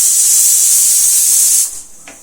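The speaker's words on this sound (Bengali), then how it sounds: "ছেলের খাবার বসানো হয়ে গেছে, এবার 8 থেকে 9টা সিটি পড়লেই খাবারটা নামিয়ে দেব।" A pressure cooker on a home kitchen stove vents steam in a loud, continuous hiss that cuts off abruptly, leaving a faint tick and near silence.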